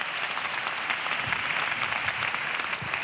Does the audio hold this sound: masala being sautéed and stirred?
no